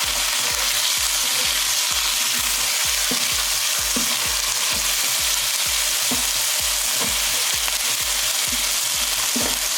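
Chicken fried rice fries in a hot pan with a dense continuous sizzle, punctuated by regular low thumps of the spatula tossing and turning the rice, close and loud, no voices.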